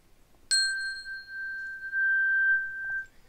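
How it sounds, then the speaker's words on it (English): A simple metal chime struck once at a physics demonstration rings out with a bright, clear tone that sustains for about two and a half seconds before fading, with no talk over it. "Here's a simple metal chime."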